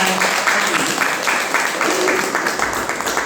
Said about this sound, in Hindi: तो जबरदस्त जोरदार ताली बजाएं।